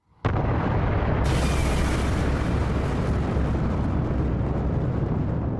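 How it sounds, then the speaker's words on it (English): A supernova explosion bursts in suddenly with a sharp onset, then swells into a huge, roaring, sustained rumble that stays loud and dense for several seconds without fading. "a huge explosion is generated"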